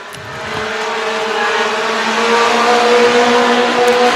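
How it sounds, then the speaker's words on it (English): Race cars roar around Antioch Motor Speedway during a fundraiser night race, engines loud and close, building steadily as the pack passes. "Myers been having some good runs here at Antioch Motor Speedway"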